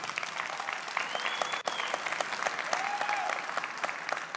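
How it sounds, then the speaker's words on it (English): An audience at a presentation applauds with steady, even clapping. The sound is moderately distant and continues for several seconds at a fairly faint level. "One applause."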